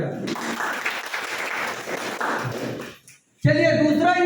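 An audience breaks into loud, sustained applause, with crowded clapping lasting close to three seconds before it fades out and talk resumes immediately after.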